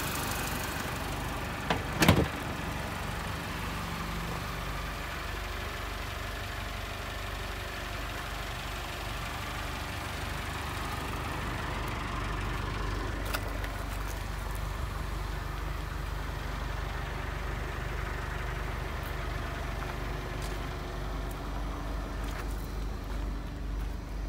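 A 2006 Mini Cooper S with about 112K miles idles quietly and smoothly, a low, steady engine hum heard from nearby, with a brief sharp knock near the start and faint background noise.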